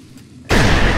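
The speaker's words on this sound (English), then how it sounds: "Now just throw this grenade." A thrown grenade in a video game bursts halfway through, a sudden loud, close blast after a quiet lead-in, with the roar sustained to the end.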